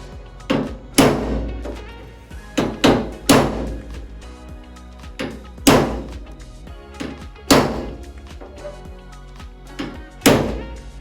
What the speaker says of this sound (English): I'm going to try to use a punch and get it flat enough